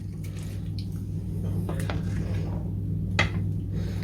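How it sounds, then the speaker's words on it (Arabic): Trotter soup (kawareh) being poured over bread in a home kitchen: soft wet splashing and squishy liquid sounds close by, with a couple of brief drips and sloshes over a steady low background hum. "هنحط عليها بقى الشوربه بتاعتنا اللي احنا ضايقينها ومظبطينها"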